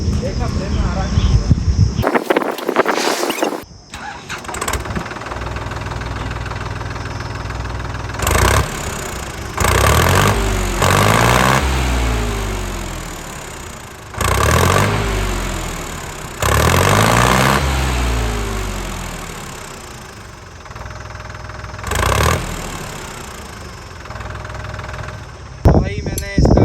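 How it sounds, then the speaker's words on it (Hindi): A tractor engine cranks, catches and settles into a rough, throbbing diesel idle, then is revved up and down several times in swelling surges, close by, with someone talking over it. "एक बार ट्रैक्टर स्टार्ट करके इसका साउंड देखते हैं क्या अंतर आ रहा है इसमें"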